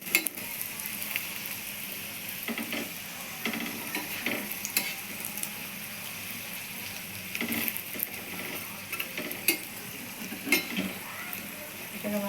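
A Mughlai paratha frying on a small griddle over a lowered gas flame gives a soft continuous sizzle, broken by intermittent scrapes and taps of a spatula against the pan.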